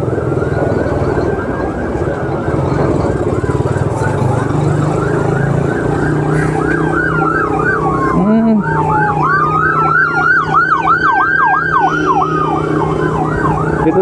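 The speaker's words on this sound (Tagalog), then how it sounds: "Dito na napunta ng tatlong ambulansya." Three ambulance sirens wail loudly nearby amid traffic, switching from a long rising-falling tone to a rapid yelp, with a horn blast partway through.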